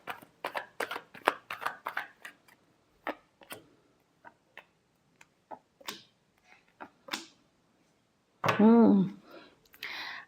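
Tarot cards being shuffled by hand, a series of crisp, close riffling clicks in uneven bursts, followed near the end by a short spoken voice.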